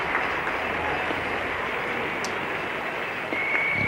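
Distant crowd applause at a 1973 West Indies versus England Test cricket match at Lord's, a steady wash of clapping spread across the ground with a faint commentator's voice.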